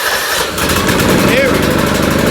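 A small two-stroke engine, left sitting with fuel for more than eight months, cranks and sputters into a steady running buzz up close, with a person talking over it.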